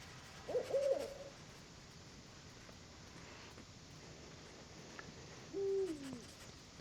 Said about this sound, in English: Sneak past this sleeping owl.